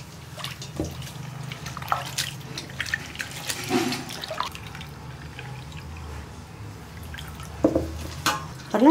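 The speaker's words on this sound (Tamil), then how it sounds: "இன்னும் கொஞ்சம் தண்ணி ஊத்திக்கங்க இந்த ரெண்டு வாட்டி கழுவிடுங்க" Water poured into a vessel to wash grains, with drips and splashes of liquid in a kitchen, fairly quiet and intermittent against low background noise.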